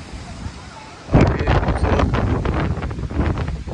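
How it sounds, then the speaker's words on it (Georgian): Strong gusts buffet the microphone outdoors, a loud rumbling roar that bursts in after a quieter second and keeps pounding unevenly to the end. "მოკლედ ისეთი ქარია"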